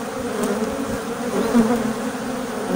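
Honeybees hum close by at an opened hive after a spring cold snap and an expansion of the hive space, a dense, steady drone with no voices.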